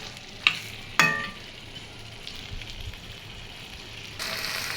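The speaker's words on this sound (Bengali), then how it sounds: "আলুগুলো দিয়ে দিলাম, আলুগুলো দিয়ে আরও হচ্ছে 5 মিনিট এরকম করে কষানি করবো" Potatoes stir-fried with beef in a pan: two sharp utensil clanks early on over a continuous sizzle, with the frying noise swelling louder near the end.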